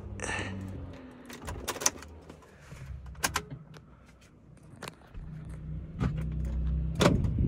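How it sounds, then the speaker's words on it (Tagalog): A key going into the ignition of a 2012 Mitsubishi Strada DI-D pickup, heard as a few brief metallic clicks and jangles inside the cab amid faint rustling and handling noises. "pasok yung susi."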